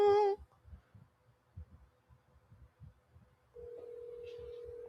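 Telephone line tones on a call-in show phone line, a brief loud tone burst at the start, then a steady tone held over the last second and a half, with low rhythmic thumps between.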